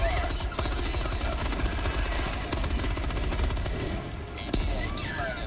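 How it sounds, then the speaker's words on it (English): Rapid, dense gunfire crackles continuously during an orbital barrage in Helldivers 2, a loud combat din with sharp bursts layered over a rumbling low end, and voices come through beneath it. "Firing orbital barrage"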